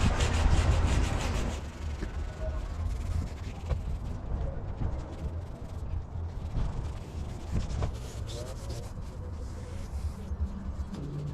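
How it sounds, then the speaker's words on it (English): Abrasive scuffing of vinyl-wrap car molding, a steady dry rubbing and sanding texture that runs continuously at close range with small scrapes and taps throughout. "give it a nice scuff"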